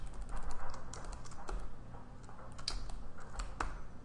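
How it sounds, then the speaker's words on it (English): A few sharp key clicks and taps on a computer keyboard as a shortcut is typed, close and fairly quiet over a low background hum. "All we have to do is type Apple //"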